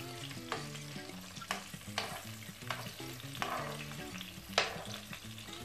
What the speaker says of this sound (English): So you have to fry it on the low heat.